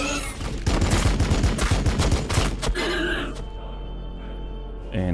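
Overwatch gunfire in the Warhammer 40K: Battlesector strategy game: a dense, loud burst of rapid shots rattles for about three seconds, then cuts off to a quieter hum with a faint final click.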